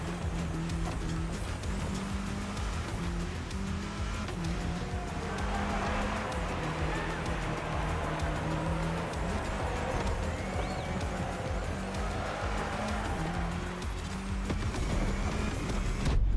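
A car from the racing video game The Crew Motorfest drives on steadily, its engine drone running throughout at an even, fairly loud level, with music and game effects layered over it.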